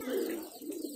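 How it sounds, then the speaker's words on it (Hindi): An elderly high-flyer pigeon, a cross between desi and Sarangpuri breeds, gives a short, soft cooing call. It is close by and quiet, with no talk over it. "काफी उम्रदार कबूतर है"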